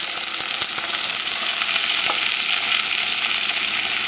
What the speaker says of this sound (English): Now we'll just add all the vegetables